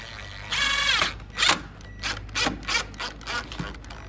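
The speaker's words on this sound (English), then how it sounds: "we're just gonna drive this screw into our framing" A screw driven into new window framing with a cordless drill, short bursts of whirring motor and clicking as the trigger is squeezed in several brief pulses, close and fairly loud.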